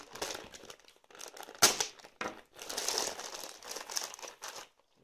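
Plastic packaging around a Banpresto figurine is pulled open and crinkles close by in irregular bursts, with one sharp tearing crackle and brief quiet gaps between handlings.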